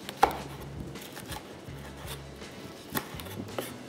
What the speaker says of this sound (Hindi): बस अब इसको चॉप करते जाएंगे, बिल्कुल फाइन चॉप करूँगा